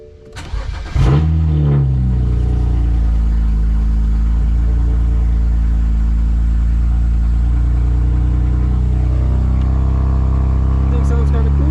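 A BMW 335i fitted with an upgraded fuel pump cranks, fires and settles into a steady, deep, rumbling idle with slight pulsing, loud and close, a short rev near the end.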